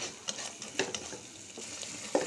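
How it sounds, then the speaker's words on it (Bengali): Shrimp and cauliflower being stirred as they fry in a pan, giving a soft steady sizzle with a few light scraping strokes of the spoon, close and quiet, with no talking. "একটু লাড়াচাড়া করে নিচ্ছি।"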